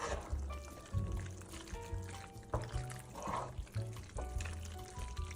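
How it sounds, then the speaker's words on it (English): Macaroni noodles being folded into cheese sauce make close, thick squelching and sloshing sounds in a steady rhythmic stirring pattern, heard alone. "Now my favorite part, mixing the noodles and the cheese sauce together."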